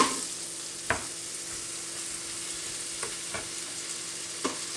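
Chopped onion hits a hot pot and sizzles softly and steadily, with a few faint clicks of a utensil against the pot; no one speaks.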